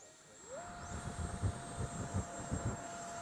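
An FPV model Red Arrows jet spools up to full power for takeoff, its thin turbine whine sliding upward and then holding a steady high pitch over a low rumbling rush.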